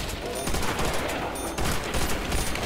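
Rapid gunfire from a ray gun and a Browning machine gun in Call of Duty Nazi Zombies on the Nacht Der Untoten map, a loud, dense stream of shots.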